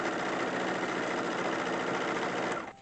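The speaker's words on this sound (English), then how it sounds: "we're here at the sewing machine, sewing on the facing" A sewing machine stitching a facing onto an 1880s-style dress runs in a steady, close, continuous whir, then slows and stops at the very end.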